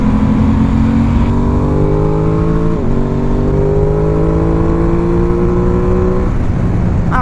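A 2021 Aprilia Tuono 660 motorcycle engine revs loud and close, its raspy airbox roar climbing steadily in pitch, dipping briefly at one point, then pulling hard again through the rest of the run.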